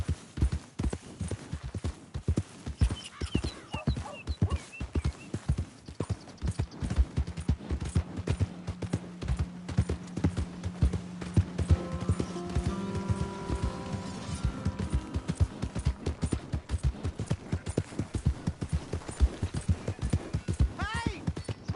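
Horse hooves clip-clopping at a steady walking rhythm in Red Dead Redemption 2, close and continuous, with a brief low hum and tonal game sounds in the middle and no clear talk.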